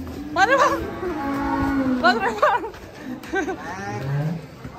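Muscular Belgian Blue cattle at a cattle contest let out several drawn-out, rising and falling moos in sequence, close by, with people's voices and chatter mixed in.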